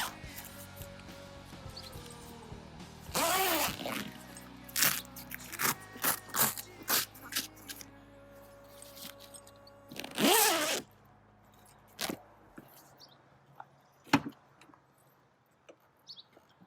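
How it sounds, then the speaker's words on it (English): Two long rasping pulls of a zipper on a Jeep soft-top window, close and clear, separated by scattered clicks, rustles and small plastic knocks. "If you undo the zipper, it'll just fall right out."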